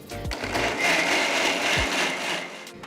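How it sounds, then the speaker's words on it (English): A mixer grinder whirs steadily as it purees cooked chilies into a fine paste, a loud continuous motor buzz with churning texture and a couple of brief low knocks. "transfer it to a mixer jar and grind it to a fine paste"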